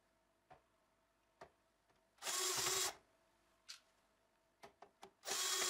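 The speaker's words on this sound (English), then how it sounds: "you unscrew the front panel. That's done by removing three screws at the top." Screws being worked loose from the front panel of a Yamaha TG-77 synthesizer, heard as scattered small clicks and taps with two louder bursts of scraping, rubbing noise, close up and with no talking.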